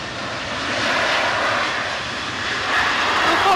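Jet airliner engines at Manchester Airport as a Jet2 jet goes around, a broad, steady roar that swells slightly, heard from a distance without voices.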